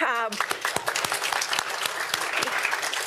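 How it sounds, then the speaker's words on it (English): A crowd at a graduate research slam finals event applauds the judges, with dense, sustained clapping filling the clip after a brief voice at the very start. "please join me in giving a round of applause and gratitude to our judges"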